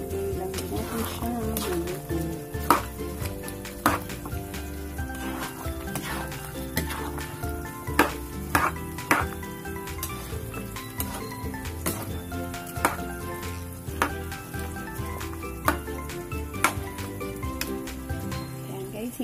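Pork menudo frying in a pan with potatoes, stirred with a utensil: steady close sizzling runs throughout with repeated scraping clicks and knocks against the pan, under a layer of background music.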